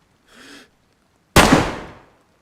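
DayZ gunfire: a faint muffled pop first, then a single sharp loud gunshot with a long decaying echoing tail, close and alone.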